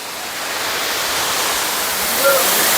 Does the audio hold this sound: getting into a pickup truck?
no